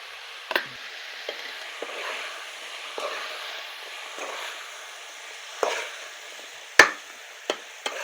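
Spiny gourd curry with chilli powder and coriander powder stirring and sizzling softly in a pan, village-style cooking, with a steady low hiss and a few sharp clicks of a spoon against the pan.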